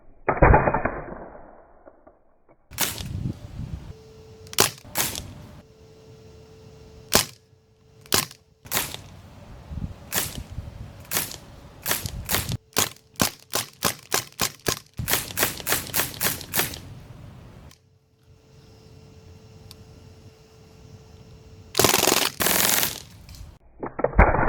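A Crosman DPMS SBR BB rifle fires on full auto, sharp rattling bursts and single cracks in irregular strings, some rapid runs of a dozen or more shots, close and loud, with a faint hum between bursts.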